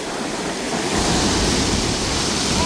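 Ocean waves rolling in at Calayo beach in Nasugbu, Batangas: a loud, continuous broadband roar of surf that swells after the first second and stays steady, with no voices.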